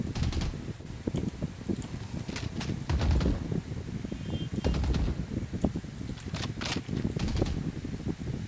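Rapid gunfire from a rifle in the shooter game Valorant, sounding as repeated bursts of sharp cracks in a steady rhythm, loud and close, over constant background game noise.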